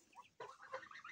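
Chickens clucking in a sunny farmyard shared with ducks and geese, a few soft clucks then a busier run of overlapping fowl calls, fairly faint and close.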